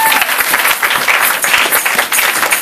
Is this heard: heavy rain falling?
no